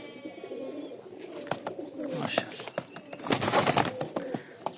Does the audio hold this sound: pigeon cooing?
yes